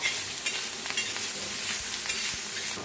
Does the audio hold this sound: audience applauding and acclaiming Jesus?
no